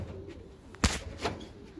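Soft cooing of pigeons inside a loft, a couple of brief low coos with a faint bird call amid quiet room noise.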